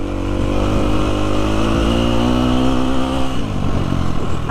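A motocross bike accelerates on a sandy track, its engine droning loud and close with rising revs, then shifting and roaring on as the throttle opens.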